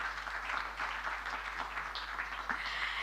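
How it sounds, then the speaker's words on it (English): Audience applause at the official opening of an annual general meeting, a steady wash of many hands clapping throughout, moderately loud and continuous with no pauses. "I think we can give the Deputy President a round of applause"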